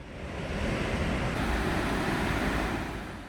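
A steady, dense roar of falling water comes from Sambuyeon Falls, a 30 m three-tiered waterfall among strange rock formations, loud and continuous without pause.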